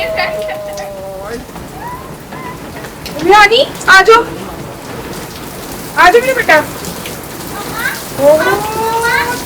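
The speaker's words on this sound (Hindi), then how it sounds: "ज्यादा बारिश हो रही है।" Heavy rain falls steadily during an outing in a garden, a continuous broadband wash under the whole stretch while people nearby talk and a voice rises over it.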